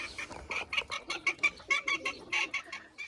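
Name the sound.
chickens clucking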